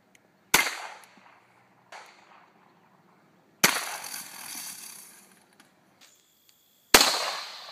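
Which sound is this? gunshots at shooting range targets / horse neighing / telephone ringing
gunshots at shooting range targets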